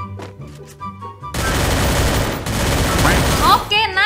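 Free Fire gunfire: after a brief quieter lead-in, a loud, dense burst of rapid shots fills most of the clip, with a voice briefly heard over it near the start.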